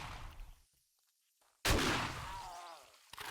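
A sudden explosion in the survival video game 7 Days to Die bursts in loud and close, its boom rumbling and fading over more than a second after a brief near-silence, with another short crack at the end.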